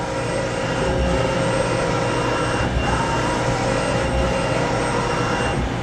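X-axis feed on a Mori Seiki SL-3A CNC turning center traversing, a continuous even mechanical drone with faint rhythmic thumps, close and unvoiced.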